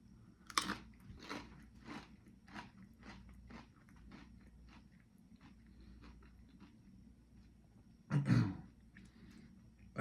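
Close, crisp crunches of a small tortilla chip dipped in queso being bitten and chewed, a string of soft rhythmic chews followed by one loud crunch near the end, in a quiet room without talk.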